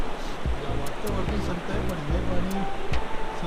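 Forceful rushing water of the Vyas river in Nepal roars steadily below a gondola line, a loud continuous wash with a low hum and voices underneath.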